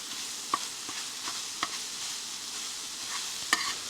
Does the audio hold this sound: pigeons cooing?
no